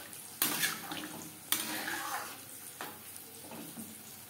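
Water is poured into a pot of thick moong dal cooked with papaya, giving short splashing bursts with quieter pouring between them.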